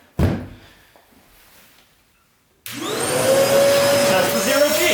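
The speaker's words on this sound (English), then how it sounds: "So let's test another vacuum." A Wessel Werk vacuum cleaner, on test with a turbo nozzle, roars to life after a sharp knock and a quiet pause, then runs loud and steady nearby with a rising whine.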